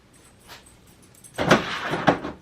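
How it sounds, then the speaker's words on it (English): A small dog runs into a stack of plastic Tupperware bead boxes: a faint knock, then a loud clattering crash of light plastic containers tumbling, with a second bump as they settle. "he just ran into a stack of Tupperware"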